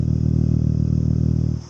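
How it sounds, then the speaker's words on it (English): Chrysler 300 V6 exhaust in normal mode, fitted with a remote-controlled sound system: a steady, close, humming drone that cuts off sharply just before the end. "This is a V6 Chrysler, all muscle cars. They are 6-cylinder, doesn't sound so good."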